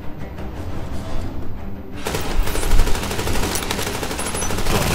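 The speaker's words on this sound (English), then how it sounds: "I'm using the MG turret." A machine gun turret in a shooter game opens up after a quieter start, pouring out a dense, loud, continuous stream of rapid shots that carries on to the end.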